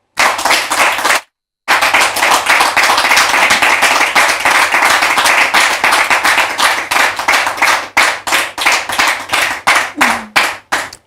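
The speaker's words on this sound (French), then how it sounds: "Merci de les recevoir sous vos applaudissements." An audience welcomes two guests to a church gathering with loud, dense hand clapping that drops out for a moment, then returns and thins into separate, rhythmic claps toward the end, close and alone without talking.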